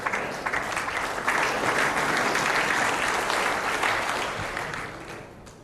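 Spectators at a women's world cup lawn bowls singles final give a sustained round of applause, a dense close clapping that holds steady and slowly tapers off.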